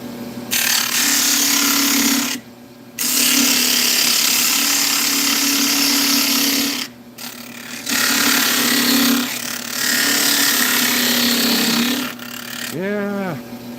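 Power tool cutting the base off a cracked woodturned piece on a lathe chuck, followed by sanding: a loud steady grinding hum with two short pauses and a rising whine near the end, faint voice in the background.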